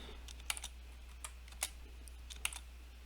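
Quiet typing on a computer keyboard, with scattered single key clicks and a few quick pairs, faint and close against a steady low electrical hum, no voices.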